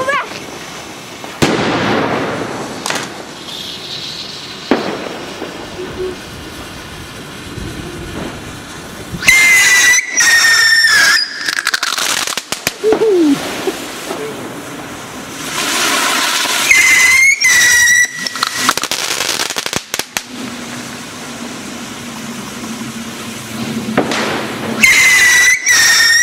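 A homemade pinwheel firework spins with a rising, whistling shriek that returns in several loud bursts, mixed with crackling and fizzing, while people chat and call out nearby.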